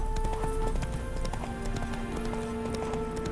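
Rapid rhythmic clip-clop of horse hooves at a gallop in the video game The Witcher 3, steady and fairly close, over a low ambient game soundscape.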